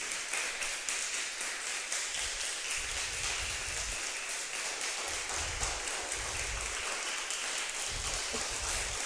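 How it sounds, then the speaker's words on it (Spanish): Church congregation at an Easter Sunday service applauding, a steady dense wash of clapping from many hands, moderately distant and even throughout with no voices on top. "Pero denle un aplauso fuerte, hermano, porque Dios está vivo."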